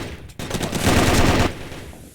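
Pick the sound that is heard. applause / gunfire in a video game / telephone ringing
gunfire in a video game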